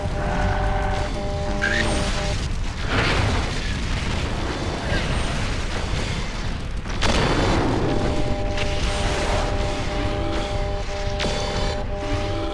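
Explosions of destroyed targets in the MechWarrior 4 video game, heavy booms and crashes rolling over constant mechanical hum and tones, with a big blast near the middle.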